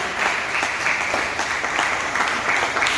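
A church congregation applauds in praise to the Lord, sustained dense clapping from many hands, steady and fairly close, with no talk over it.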